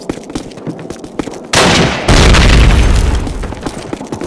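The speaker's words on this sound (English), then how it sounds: "Granate! Grenade! Take cover!" A grenade goes off in Call of Duty during a Stalingrad sewer battle: a loud, sudden blast with a long roaring, rumbling tail, after a stretch of scattered gunfire and clatter.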